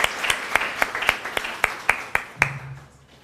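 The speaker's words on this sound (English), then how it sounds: "let's just give him a warm round of applause as he comes to the stage" Sparse applause at a university graduation ceremony as a professor comes to the stage: about a dozen sharp, evenly spaced claps, fairly close, ending with a low hum as the sound fades.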